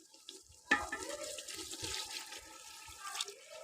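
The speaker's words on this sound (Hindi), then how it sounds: "थोड़ा सा लगाएंगे पानी" Boiled water poured into a karahi of frying vegetables and yogurt, giving a sudden splashing gush followed by a soft, steady bubbling hiss, quiet and close with no voices.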